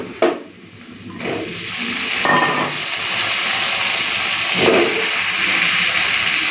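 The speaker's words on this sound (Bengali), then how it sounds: "এরপর আমি দিয়ে দিই কেটে রাখা আলু আর কুমড়ো।" Onion, potato and pumpkin frying together in a pan of oil, giving a steady, close sizzling hiss that holds level throughout, with a few faint clinks and stirring noises and no talking.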